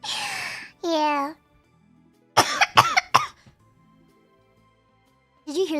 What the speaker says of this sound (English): that sounded like a baby cough